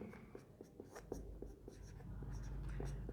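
Writing on a board during an electrical engineering lecture on alternators. Scratchy strokes and taps repeat at a steady, unhurried pace against a low room hum, with no talking.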